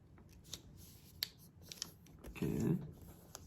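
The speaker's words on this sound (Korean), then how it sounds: "다시 반을 접어줍니다." Colored paper is folded in half, giving soft crisp crinkles and light taps, with a brief fuller rustle of the sheet being creased near the end; close and fairly quiet.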